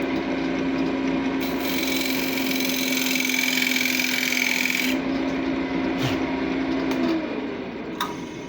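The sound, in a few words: chisel cutting a chamfer in wood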